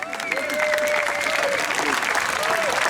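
Audience applause at a festival gathering, a steady wash of clapping throughout with a tonal whistle-like sound gliding over it and voices mixed in.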